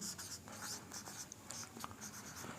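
A marker scrapes and squeaks across a classroom board in steady, rapid strokes, close and continuous, with no voice over it.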